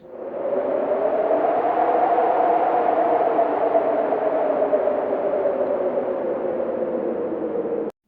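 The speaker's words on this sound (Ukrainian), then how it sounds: "А ось дує вітер." A steady, whooshing wind blows without pause for several seconds in an autumn park, with a smooth, hollow roar and no voices.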